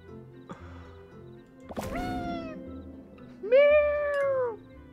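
A house cat meows twice, the first a short harmonic cry after a soft knock, the second a longer, louder drawn-out meow, close by over quiet background music.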